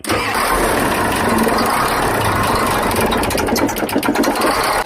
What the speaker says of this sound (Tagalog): Start guys, bagong palit injection pump tsaka dalawang injector. Start!